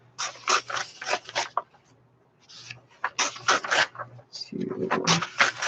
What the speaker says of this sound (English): Now you're going to flip 2 pages and tear out 5 more.